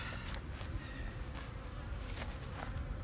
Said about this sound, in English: I've got some little fuzzy bees right in here